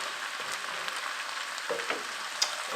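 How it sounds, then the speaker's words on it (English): Garlic frying in a pan for smoked and braised oxtails, a soft continuous sizzle with scattered small pops and light stirring scrapes, close by and fairly quiet, with no one talking. "the garlic is cooking nicely"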